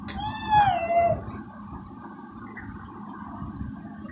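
A child imitates a cat's meow, giving a couple of short rising-and-falling mewing calls near the start. A faint household murmur continues underneath afterward.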